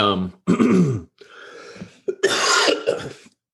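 A few harsh, forceful COVID coughs up close, in quick bursts with short pauses between them, with a throaty rasp and no talking.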